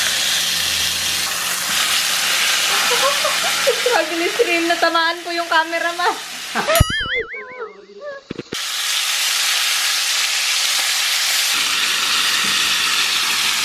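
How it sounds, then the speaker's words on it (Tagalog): Loud hissing sizzle of chicken frying in hot oil, with a brief stretch of a tonal voice or singing and a short quiet gap before the sizzling resumes. "Ipiprito natin ang ating manok."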